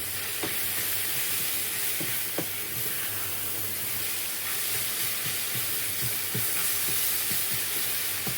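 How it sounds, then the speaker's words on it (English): Vegetables frying in a hot pan for a Polish stir fry, a constant hiss of sizzling broken by several distinct scrapes and knocks as they are stirred and broken up, close and with no voices. "stir them right in so they get a bit of the heat at the bottom of the pan"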